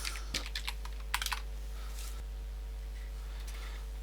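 Fingers tap on a computer keyboard in a quick burst of distinct clicks near the start, then a few sparse keystrokes before falling quiet over a low steady hum.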